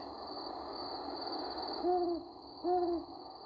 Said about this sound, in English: Follow our owl into the night.